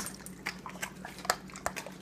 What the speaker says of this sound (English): So I share my supplements with the dogs.